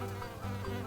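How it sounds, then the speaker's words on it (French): Small bees hum faintly and steadily in a vegetable garden in mid-April, a brief low buzz with no talking. "Petites abeilles."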